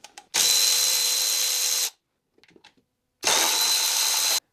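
A power tool removing the valve cover bolts on a BMW N43 engine: two loud, sustained whirring bursts of about one and a half seconds each, with a few faint clicks and rattles in the pause between them.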